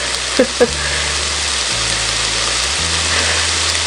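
Steady sizzling crackle of bacon frying in a pan, a constant hiss with a low background hum and a couple of brief knocks at the start.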